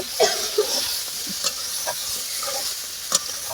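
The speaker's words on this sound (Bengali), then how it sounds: "মশলা কষা চলছে" Spice paste for duck curry stir-fries in hot oil, a continuous sizzle broken by scraping stirs and occasional sharp pops, close and fairly loud with no talking.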